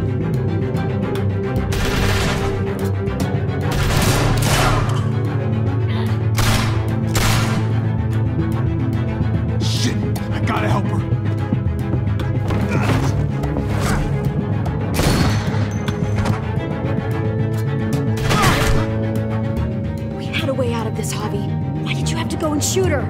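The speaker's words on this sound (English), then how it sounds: "Shit, get down! I hear gunfire." Gunfire in The Walking Dead video game cracks out in sharp repeated bursts amid crashes and impacts, loud and close, mixed under frequent dialogue and a background score.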